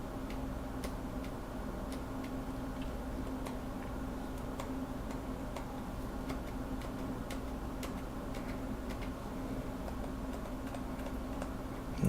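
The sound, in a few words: keyboard stabilizer keys topping out, silenced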